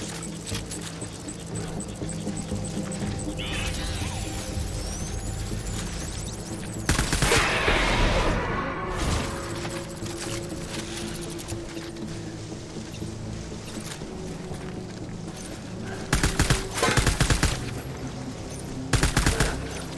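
Gunfire in Death Stranding: scattered bursts of shooting over a low mechanical game backdrop, with loud volleys midway and a cluster of sharp shots near the end.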